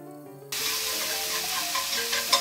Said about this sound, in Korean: 그다음에 마지막으로 고기를 볶아볼게요.